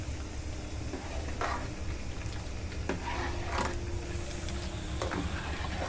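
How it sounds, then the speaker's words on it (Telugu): Chennai payasam boils in a pot on a stove, a steady close bubbling hiss with occasional soft pops and a faint stirring clatter, no talk over it. "పాయసం మనకి ఇక్కడ ఉడుకుతుంది"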